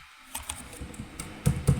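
Fingers type an amount on a computer keyboard, a quick close run of several light clicks, with the last two keystrokes louder.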